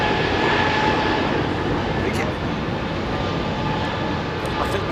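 A Boeing 747-400 pure freighter at London Heathrow Airport, heard as a steady, loud roar of jet engines filling the whole stretch, a broad continuous rumble with no clear change in level.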